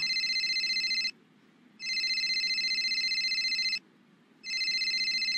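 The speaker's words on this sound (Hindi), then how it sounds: "सफीर की इस वक्त क्यों कॉल आ रही है?" A phone ringtone trills in long repeated bursts with short pauses between them, clear and fairly close, with no voices.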